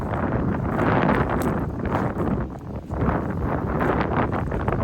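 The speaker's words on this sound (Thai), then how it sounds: "ลมแรงนะพี่น้องเนาะพามากินอากาศกันเลย" Strong wind gusts blowing steadily outdoors, a loud broadband roar buffeting the microphone throughout with brief lulls, no voices.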